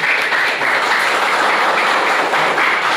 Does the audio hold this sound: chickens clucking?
no